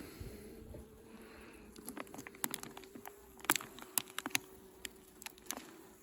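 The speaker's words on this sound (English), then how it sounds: "They're just packed with bees" Honeybees buzz around an open feral hive during a winter inspection, a low steady hum with a droning tone, broken by sharp ticks and taps of handling close by.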